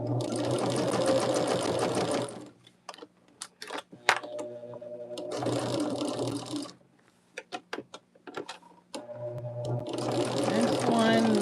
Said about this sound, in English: we can take it back to our machine and stitch this last side